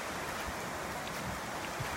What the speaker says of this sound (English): That's actually white water.